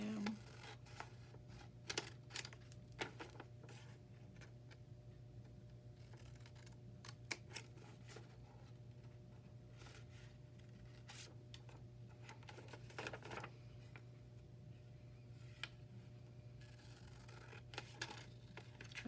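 Scissors trim paper for a handmade file folder journal, giving a long run of small, close, crisp clicks and snips over a steady low hum, with no talking.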